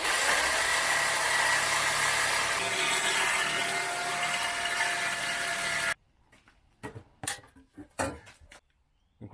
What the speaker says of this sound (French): le tube inox je le fais à la disqueuse